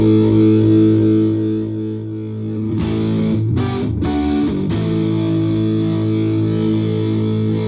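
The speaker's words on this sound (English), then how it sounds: "If you do too much distortion, it gets really woolly." A loud electric guitar through a distortion pedal holds a thick, buzzing sustained tone, broken by a few sharp strummed chords midway.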